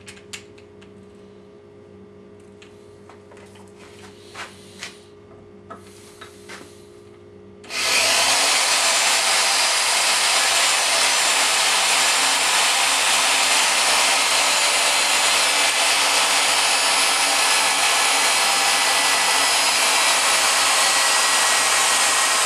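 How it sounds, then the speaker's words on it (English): After a few faint taps, a battery drill starts up on a pre-made viking helm and runs at a loud, continuous, unbroken whir for the rest of the time, with no talking. "I'm thinking the battery drill will work better because I can control the speed on it"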